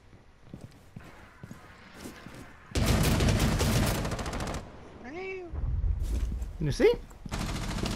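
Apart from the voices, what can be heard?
gunfire from Rainbow Six Siege video game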